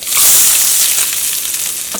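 Ginger, onion and green chili frying in coconut oil, a steady close sizzle and crackle with a faint scrape or stir near the end.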